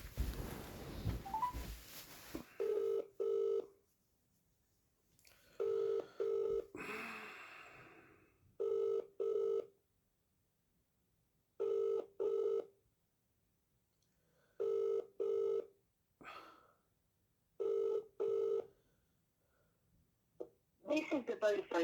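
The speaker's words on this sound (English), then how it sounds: "Ring you up Christopher Browell." A mobile call to a Vodafone number rings out with repeated double-pulse ringback tones at regular intervals, about seven pairs in all. Faint breathing and handling noises sit between them.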